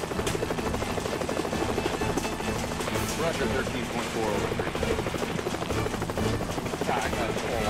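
A helicopter hovers with no airspeed in the Helicopter Simulator search-and-rescue game, its steady rotor thump and engine roar loud and continuous throughout.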